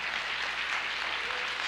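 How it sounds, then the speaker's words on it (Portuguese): Church congregation applause, a brief, even wash of many hands clapping together at moderate volume with no pauses. "O Senhor merece uma salva de palmas."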